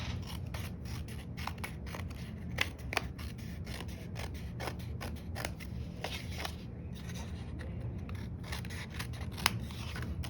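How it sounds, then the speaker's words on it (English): Scissors snip through stiff cardstock in a steady series of short, crisp cuts, close and fairly quiet, with no talking. "we take our scissors, and you're just going to turn your card over and just trim off any extra."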